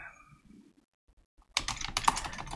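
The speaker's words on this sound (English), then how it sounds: "I just type username and password and I should good to go" Quick burst of typing on a computer keyboard, a dense run of close, crisp key clicks that starts abruptly after a near-silent pause.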